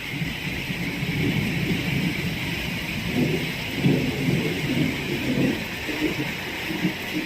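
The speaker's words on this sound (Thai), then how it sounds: "ฝนสาดเข้ามาเปียกหมดเลยนะคะ" Heavy rain from a storm pours in a dense, continuous roar, with low rumbling swells that come and go beneath the hiss.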